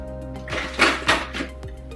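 A cocktail shaker set down on a wooden serving board for a margarita spread gives a few close, knocking clinks in quick succession, with no talking.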